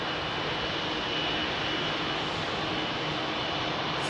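A Boeing 777 departing Heathrow bound for Washington IAD roars as a steady, distant jet engine rumble with a thin whine, sustained at an even level.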